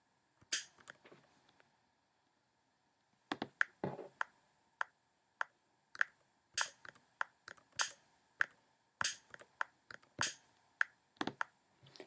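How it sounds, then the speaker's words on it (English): A GarageBand metronome clicks while a keyboard part is being recorded: a short scatter of crisp ticks, a pause, then a steady run of sharp, evenly spaced clicks, close and fairly quiet. "there's going to be a click, click, click, click, which is the metronome, which keeps you in time"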